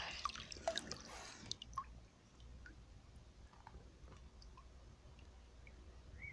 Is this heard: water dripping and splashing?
yes